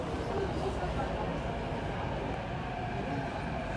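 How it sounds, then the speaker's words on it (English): A C train on the New York subway rumbles through Whampoa Station, a steady, loud, continuous roar of rail and wheel noise filling the platform throughout, with some speech faintly mixed in. "All C trains. There that goes."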